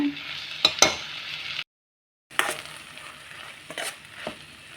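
A tomato gojju mixture fries in a pan with a soft sizzle broken by a few sharp stirring scrapes and clinks, a brief silent gap midway, then more frying and spoon knocks.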